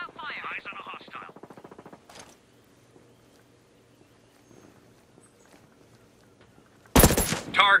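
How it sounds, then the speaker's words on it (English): A voice speaks briefly in Ghost Recon Breakpoint, then near silence with faint clicks before a sudden loud burst of rapid gunfire at the end. "I hear gunfire."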